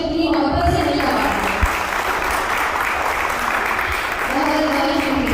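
Steady, close applause from an audience at a Pakistan Day mushaira poetry gathering in Sharjah, a dense clapping wash that holds without a break from start to finish.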